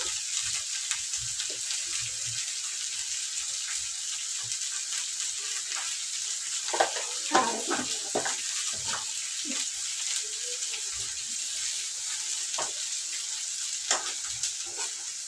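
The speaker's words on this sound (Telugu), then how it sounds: "అన్నీ వేసేసిన ఇప్పుడైతే బాగా కలిపేస్తా" Spices and radish being stirred through a curry in a frying pan, a steady soft sizzle with scattered scraping and clinking of the spoon, busier in the middle stretch, close and alone without talk.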